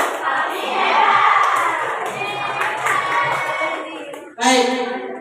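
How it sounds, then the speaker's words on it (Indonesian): A group of students at a leadership training session claps and cheers together, a dense burst of applause and voices filling the space, dipping briefly before a sharp final shout rings out near the end. "Tepuk tangan."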